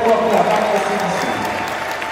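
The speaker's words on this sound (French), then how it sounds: "Applaudissons très fort pour la banque CDC" Applause for the CDC bank at a parish's 60th anniversary celebration, a short steady burst of crowd clapping mixed with voices and a low musical tone underneath.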